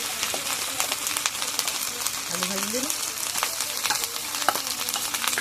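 Ginger, cumin and garlic paste fries for a country duck curry, giving a steady hiss with soft stirring scrapes throughout. A faint voice can be heard briefly in the background.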